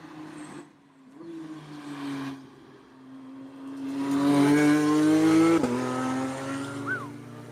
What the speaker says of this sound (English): Porsche coming in hot.